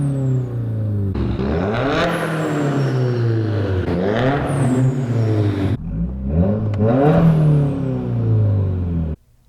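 An R33 GT-R engine revs hard in several loud pulls, pitch climbing and dropping between gear shifts, close up with no talking.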